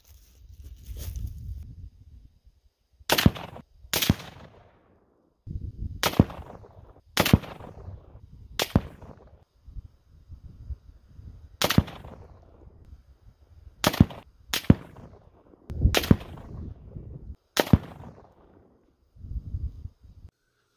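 Series of loud 224 Valkyrie rifle shots with 80.5 gr Berger bullets over H4895 powder during charge weight testing at a range, about a dozen sharp cracks spaced irregularly over quiet outdoor background, no talk.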